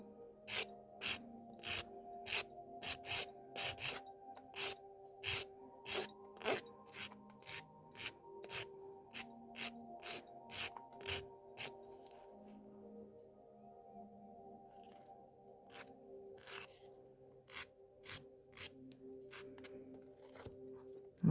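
A nail file rounds off the tips of nails in a series of quick rasping strokes, close and fairly quiet, grouped in bursts with short pauses, while soft background music plays underneath.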